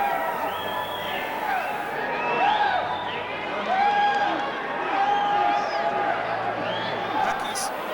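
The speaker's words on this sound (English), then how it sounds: "The crowd is loving it." Crowd at a Toughman amateur boxing match cheering between rounds, a steady roar of voices with swells of whoops and shouts, fairly distant and continuous throughout.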